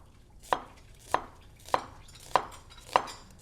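A knife chops an onion on a cutting board in a home kitchen during a plant-based cooking class, five evenly spaced sharp chops about half a second apart, close and distinct, with no talk.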